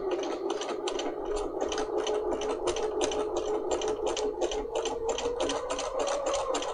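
A Bernina 300 series sewing machine runs a decorative stitch pattern, producing a steady, rapid mechanical chatter with an even tick of needle strokes and a constant motor whine, close and uninterrupted.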